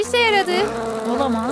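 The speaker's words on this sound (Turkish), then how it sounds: "Sinek." Fly buzzes in a Spider-Man video game, a wavering high drone that rises and falls around short bursts of spoken dialogue.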